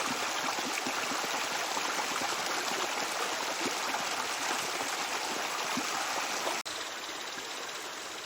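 Shallow creek in Washington where salmon eggs lie in the water, a continuous broadband rush and trickle of flowing water close by, steady throughout with a brief click near the end.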